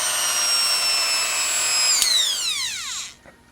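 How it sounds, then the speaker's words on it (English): A DEPSTECH rotary tool, rated 10,000 to 40,000 RPM, whines at high speed, then its pitch falls steadily as it is turned down to minimum and spins to a stop, loud and close with no talking. "And that's maximum speed, back down to minimum."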